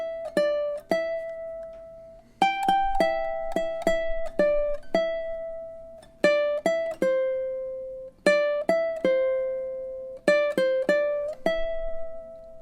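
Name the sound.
ukulele playing a melody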